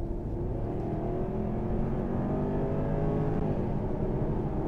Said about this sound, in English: I don't know of any newer cars that give a noise as pure as what that is